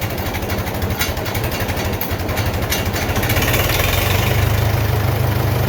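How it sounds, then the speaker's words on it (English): A Farmall 450 LP tractor engine running at low idle, a loud, close, steady chugging rumble with a rapid even beat and a faint rattle, constant throughout. "She's definitely down at her low idle now."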